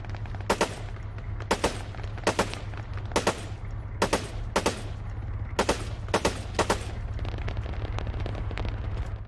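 Gunfire in the video game Arma 3 aimed at a descending parachuter: short sharp bursts of two or three shots repeating at fairly even intervals over a steady low hum, with no talking.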